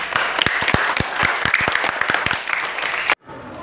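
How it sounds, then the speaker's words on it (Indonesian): Schoolchildren applaud together in a room, a dense and lively burst of clapping that holds steady for about three seconds and then stops abruptly. "Boleh tepuk tangan yang meriah."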